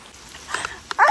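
A dog gives a short, loud bark near the end after a faint yip, during a rainy outing from a motorhome trip in Brazil. A steady quiet patter sits in the background.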